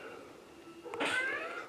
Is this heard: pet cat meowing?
yes